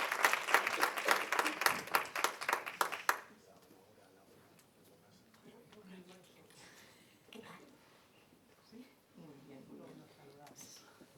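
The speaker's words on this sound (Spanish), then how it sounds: "Un fortísimo aplauso para las 4 que vayan subiendo al escenario" Loud audience clapping greets four women walking onto the stage at a women-in-science-and-business event, a dense burst lasting about three seconds before dying away into quiet room noise with faint scattered sounds.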